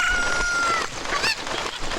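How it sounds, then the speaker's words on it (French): A cucco chicken in Zelda Ocarina of Time gives a quick, faint cluck or squawk over steady game background noise, one brief call near the middle of a short stretch. "Et on va prendre la poule."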